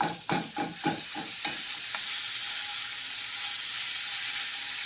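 Italian sausage sizzles steadily as it browns in a hot pan after a few scraping stirs at the start, a constant hissing fry with no talking.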